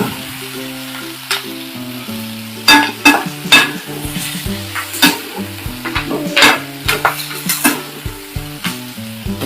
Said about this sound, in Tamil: வெங்காயம் பார்த்தீங்கன்னா ஓரளவுக்கு வதங்கி வந்துருச்சு